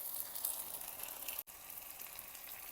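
Spice paste of ground coriander, cumin and mustard with ginger, onion and green chilli fries in a pan, giving a steady close sizzle with one brief dropout midway.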